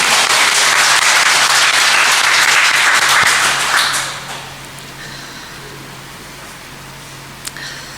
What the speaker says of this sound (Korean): 아멘으로 하나님 앞에 감사의 박수 올려드립니다.